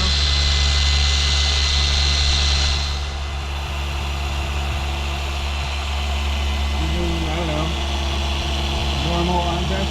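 A polisher spreads medium cut compound over a boat's gel coat with a steady, loud whirring motor drone that runs continuously and shifts slightly in pitch. Someone talks over the machine.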